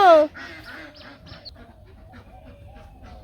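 Ducks being let out give a sharp, loud honking quack right at the start, then fainter scattered calls and rustling in the background.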